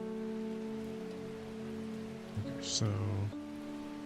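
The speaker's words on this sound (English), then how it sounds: "Love the rain, also." Steady rainfall in the video game Strange Horticulture, a soft continuous patter under sustained atmospheric music tones, with a brief louder clunk and a short spoken phrase near the end.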